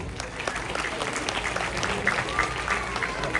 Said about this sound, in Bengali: আপনাদের কাছ থেকে একটা জোরে হাততালি চাই